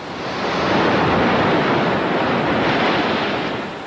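Sea waves wash in a broad, steady roar of surf that swells and eases slightly over a few seconds, loud and continuous, with wind noise and no voices.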